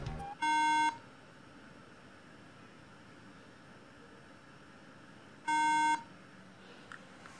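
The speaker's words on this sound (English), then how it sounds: "1 beep every 5 seconds. What that means is that it had a uh, faulty RAM." Two short, steady electronic beeps about five seconds apart from a laptop signalling a faulty RAM error code, with quiet background hiss between them.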